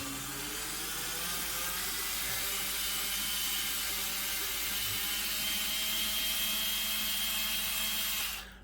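A Panasonic/Milwaukee Professional Classic 2-speed electric screwdriver backing a screw out of a hole, giving a continuous close motor whine with a grinding, ratcheting texture that runs steadily for several seconds before cutting off at the end.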